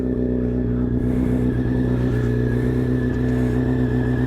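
A car engine turns over from a cold start and then idles and revs with a steady, loud drone that carries through the whole stretch without talk.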